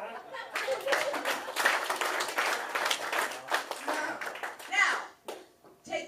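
Scattered clapping from a small audience at a comedy or improv show, irregular claps mixed with voices and some laughter, fading near the end.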